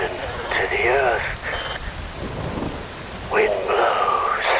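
Steady rain and low rolling thunder from the video game Metal Gear Rising, with wavering tonal, voice-like wails rising over the storm at the start and again near the end.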